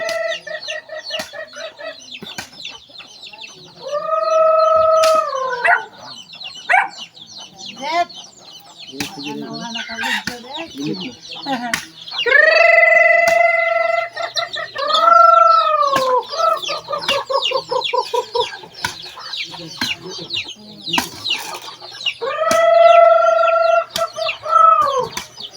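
Chickens and roosters in a barangay in Palompon, Leyte, clucking and crowing repeatedly, with several loud drawn-out crows over continuous nearby clucking and scattered voices.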